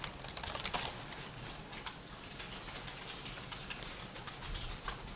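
Typing on a computer keyboard while writing HTML and CSS code, with scattered quiet key clicks at an irregular pace, close but faint, with no talk.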